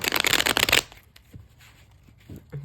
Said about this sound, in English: I will shuffle just a few more times here.